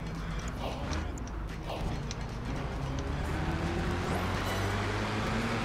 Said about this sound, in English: You can hear the supercharger in this car